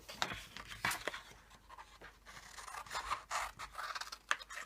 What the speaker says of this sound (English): So cut down to the second line, diagonal across to the third, down to the fourth,